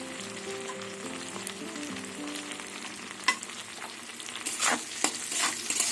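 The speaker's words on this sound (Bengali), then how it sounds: "আলু ভাজতে ভাজতে সেদ্ধ হয়ে গেছে, এবার আমি টমেটো দিয়ে দেবো।" Potatoes fry in a pan as tomato goes in, a steady close sizzle with scraping stirs and a few sharp clatters toward the end, no voices and a faint tonal hum underneath.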